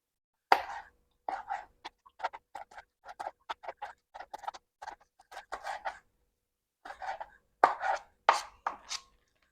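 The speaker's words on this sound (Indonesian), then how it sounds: "Ini udangnya mau Bunda potong-potong karena Pak suami lebih suka yang dipotong kecil ya." Shrimp being chopped into small pieces with a knife on a cutting board, a run of close, crisp knocks in quick bursts with short pauses between, no talk.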